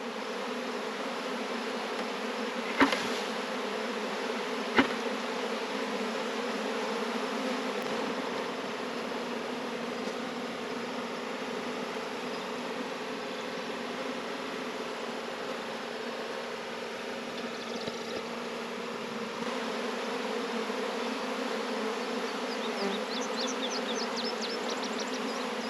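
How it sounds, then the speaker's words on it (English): Honey bees from a swarmy nuc being split into hives drone in a steady, close, continuous buzz with a few sharp taps, filling the whole stretch with no talking. "there's still a bunch of bees on the ground"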